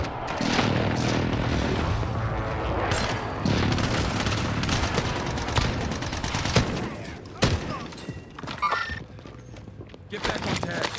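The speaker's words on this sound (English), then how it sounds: "Be advised, friendly precision airstrike inbound" Friendly precision airstrike in a combat video game: heavy booming explosions and bursts of gunfire rumble continuously, with sharp blasts standing out near the end and voices talking underneath.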